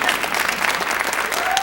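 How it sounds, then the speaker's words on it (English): Audience applause and clapping from a crowd at a Bollywood Bash stage event, a dense steady wash of many hands lasting under two seconds, fairly loud and continuous. "I thought that was going to be a hand clap."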